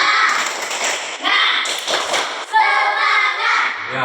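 A primary school class claps a rhythmic spirit clap together in a Grade 4 classroom, sharp and close, in short grouped patterns, with children's voices mixed in.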